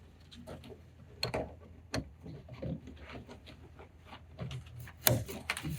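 Soft plastic clicks and rattles of a strap buckle being clipped on a kayak while rigging a paddle-float outrigger, quiet and scattered with a sharper snap near the end.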